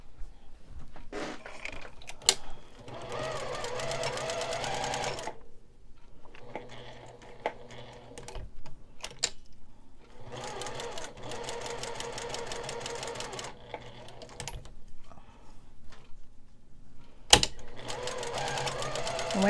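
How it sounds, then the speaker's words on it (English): A home sewing machine stitches a small fabric Christmas tree ornament in several steady whirring runs, separated by pauses with clicks and handling sounds, close and fairly quiet. "So let's sew that together."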